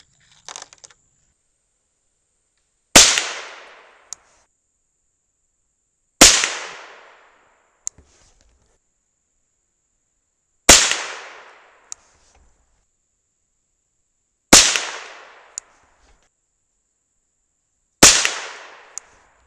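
Five sharp, loud gunshots from a gun firing .22 pellets driven by nail gun blanks, each a single crack with a short decaying echo, spaced roughly three to four seconds apart in quiet outdoor surroundings.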